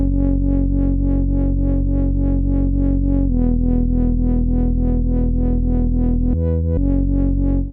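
A synthesized speed garage bass line plays as loud, buzzy sustained notes. The pitch shifts partway through, and a short chopped note jumps upward near the end before the bass returns.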